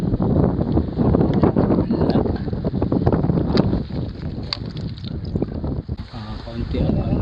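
Strong amihan northeast monsoon wind buffeting the microphone at sea during traditional fishing off Quezon province, roaring gusts with water sloshing against the boat, close and loud.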